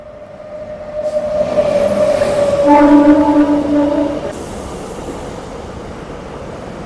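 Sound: high-speed train crossing

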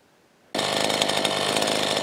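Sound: chainsaw cutting brush

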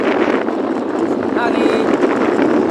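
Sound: strong wind at sea during bad weather

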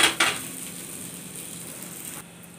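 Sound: flipping an adai dosa in the pan

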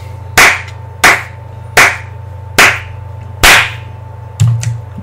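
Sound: applause

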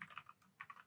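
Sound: typing on a computer keyboard

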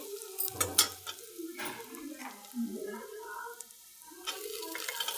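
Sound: sautéing and stirring in a frying pan

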